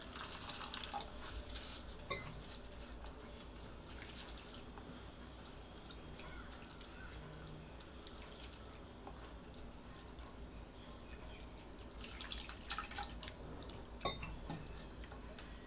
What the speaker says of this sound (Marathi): एक दोन पाण्यामध्ये मी धुवून पण घेणार आहे